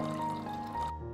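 Water is poured into a simmering pan of sauce with mashed potatoes for an aubergine roast, a brief splashing pour lasting about a second that stops abruptly.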